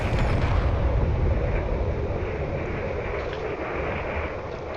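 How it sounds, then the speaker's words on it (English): Torpedoes striking a ship in a space combat video game, a loud roaring explosive rumble that bursts at the start and then trails off into a sustained, slowly fading boom. "Got hit on the nose again by some torpedoes, which is not good for it."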